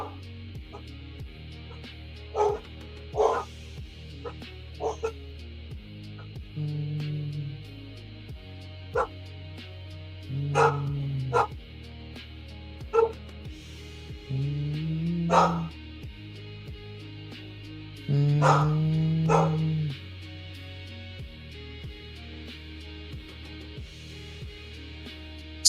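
Several dogs bark and yip in scattered bursts, some loud and close and others quieter, over a steady background of music, with occasional faint talk.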